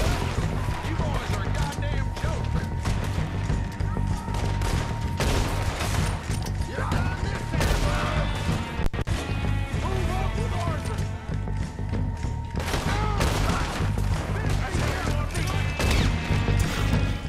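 Repeated gunfire during a train robbery in Red Dead Redemption 2, shots cracking over constant game sound and music for the whole stretch, with talk over it.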